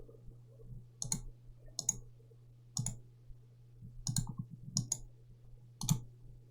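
A computer mouse is clicked during a game of Yu-Gi-Oh Omega, giving sharp, close, isolated clicks spaced about a second apart over a steady low hum.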